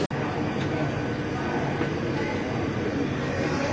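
A passenger express train runs on rails on a rainy monsoon morning, heard from inside the carriage as a steady, loud rumble with broadband hiss that holds evenly throughout.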